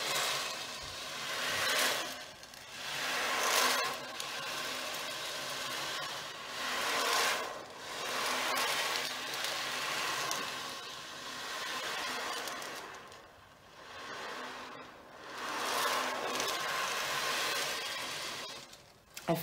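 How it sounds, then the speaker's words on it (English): Sea waves break against a harbour wall in broad, washing surges that swell and recede every few seconds, steady and fairly faint, with no voices. "the sound of the waves crashing against the harbour wall."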